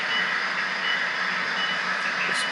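An HO scale model locomotive runs along a branchline layout track, giving a steady, close motor hum and whir with a faint, even rattle, continuous throughout and unbroken by talk.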